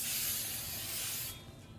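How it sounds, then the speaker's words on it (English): Hairspray sprays onto big, voluminous Southern-style hair in one steady, close, loud hiss that lasts about a second and a quarter, then cuts off and leaves quieter room tone. "use my favorite hairspray or the hairspray that you have at the time"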